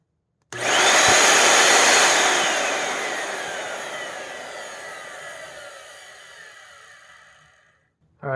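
A Bissell Powerforce Turbo vacuum motor, its rusty spindle being sanded, spins up with a sudden loud whine and then slowly winds down, the tone falling and fading over several seconds until it stops.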